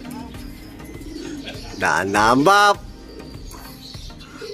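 A racing pigeon coos in a short, throaty, warbling burst at the loft during a derby race in Matnog, Sorsogon. Voices talk quietly before and after, amid background bustle.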